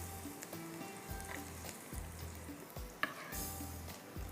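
Chopped garlic sizzles gently in hot frying oil while making a tarka sauce for spicy wings, a soft, steady crackle at low volume with faint stirring knocks.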